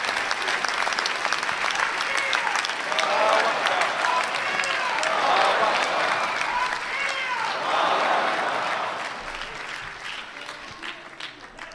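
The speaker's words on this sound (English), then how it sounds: "Let's all give him a wonderful round of applause for his work" Large audience breaking into sustained applause for a speaker, dense and loud clapping with crowd noise rolling on for several seconds before easing slightly toward the end.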